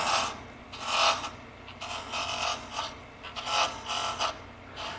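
A small spindle gouge hogs down a spinning wood workpiece on a lathe, giving repeated rasping, scraping passes in an uneven rhythm. The cuts are close and fairly loud, with no talking.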